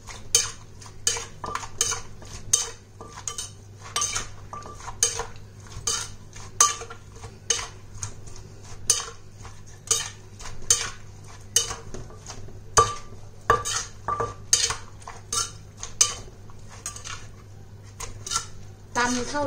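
Carrot salad with noodles is pounded in a mortar, with steady rhythmic thuds and clinks of pestle and utensils repeating throughout, close and fairly loud, with a voice heard faintly at times.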